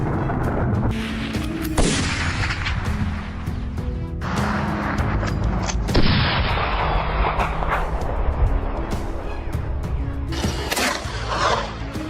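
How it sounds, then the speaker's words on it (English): Rifle shots during a wild boar hunt on hillsides, repeated cracks and booms scattered through a continuous loud, rumbling outdoor din, with no voices. "Rifle shots rang out steadily"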